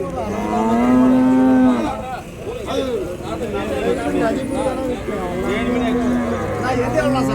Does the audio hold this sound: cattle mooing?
yes